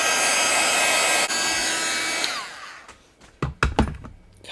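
A hair dryer runs loud and close over wet watercolour paint for a couple of seconds, then switches off and winds down, followed by a few sharp taps and handling knocks.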